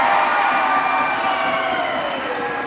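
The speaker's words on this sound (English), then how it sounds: "And you'll hear the crowd react." A basketball crowd at a men's state tournament game roars and cheers loudly in a gym, a dense, sustained wall of voices with a shrill, whistling edge that stays strong throughout.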